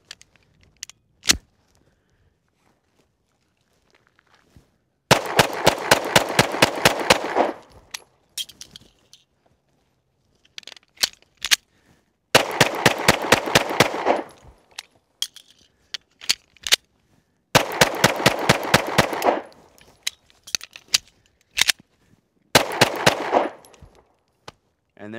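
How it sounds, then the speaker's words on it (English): A Springfield XD-S 4.0 single-stack 9mm pistol is fired during a reliability test. Four dense rapid strings of sharp reports are separated by quieter gaps with scattered single clicks and clinks, and there is no talk. "So I need 3 rounds loaded into this magazine."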